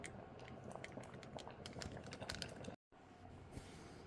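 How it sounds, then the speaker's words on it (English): Pasta sauce for a chicken pasta bubbles away inside a Thermomix TM7, a dense, quiet patter of small bursting bubbles heard close and steady with a brief dropout. "it's just going to continue bubbling away"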